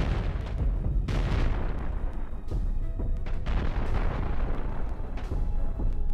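Starship weapons firing during a battle in the space game Cosmoteer, a steady barrage of deep booming blasts and bursts that pile up continuously, loud and dense with no voices.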